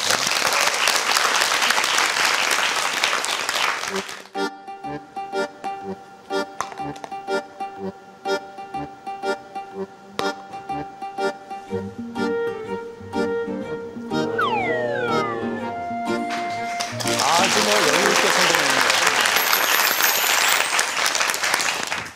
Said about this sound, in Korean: 박수를 청해 보겠습니다.